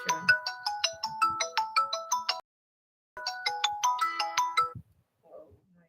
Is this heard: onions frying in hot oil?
no